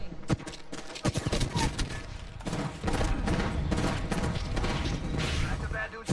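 Video game gunfire of players shooting at each other, dense rapid bursts and booming shots stacking into a loud, nearly continuous barrage, with a voice speaking over it.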